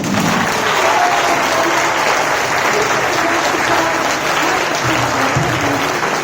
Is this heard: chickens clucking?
no